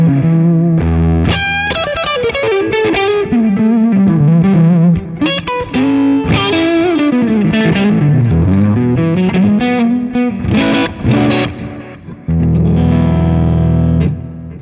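An electric guitar plays through a Valeton GP200 modeler with the distortion pedal switched off, heard through the amp model alone. Sustained chords and melodic lines sound clear and loud, with no talking.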